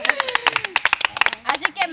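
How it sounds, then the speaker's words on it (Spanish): An audience claps in short, scattered bursts under loud nearby talking, the sharp claps mixing with the speech rather than sounding on their own. "Un aplauso para mi sitio."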